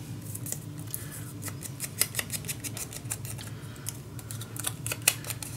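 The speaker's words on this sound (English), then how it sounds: "it's okay because you can adjust that. with your scissors" Scissors snipping through patterned design paper while trimming pieces for a steampunk dos-a-dos mini album, a quick run of crisp, close cuts in an irregular rhythm with no talking.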